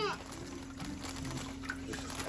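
Water squeezed a little at a time from a syringe into an aquarium bag holding a Petco snowflake eel gives a faint, steady sloshing trickle against a low background hiss.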